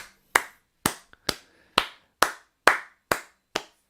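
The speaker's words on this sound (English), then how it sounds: "give yourselves a round of applause" Eight slow, evenly spaced hand claps ring out sharply and alone in a quiet room, each a crisp single smack with a short decay.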